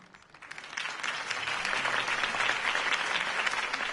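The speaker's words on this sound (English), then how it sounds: "could have heard that applause" Applause from a crowd in the video game Batman: The Telltale Series swells up quickly and holds steady, a dense wash of clapping hands.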